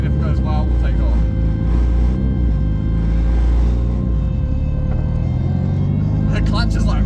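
A Corolla fitted with a Hayabusa motorcycle engine rumbles steadily from inside the cabin on a slow lap around the block, a loud continuous drone with people talking over it.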